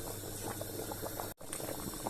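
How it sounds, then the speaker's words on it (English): A pot of egusi soup boiling, a close, steady bubbling and popping with a brief cutoff midway, continuing without any talking. "this is the egusi soup. You can see it's boiling nicely and the lumps are there."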